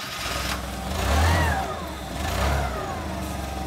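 A forklift engine during a pre-start check runs and revs in two slow swells over a steady mid-pitched drone, close and moderately loud, with no talking.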